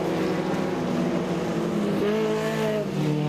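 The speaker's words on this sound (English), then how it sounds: "And the Sierra comes down the main straightaway." A Ford Sierra race car in a National 4's feature race at Kingaroy Speedway roars loud and steady down the main straight, its engine note holding high then shifting pitch near the end without a break.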